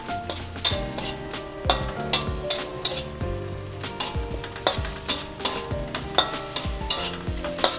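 Cooked lentils tipped into a pan of sautéed chillies and stirred, with close, busy spoon clinks and scrapes against the pan over a soft sizzle, no speech.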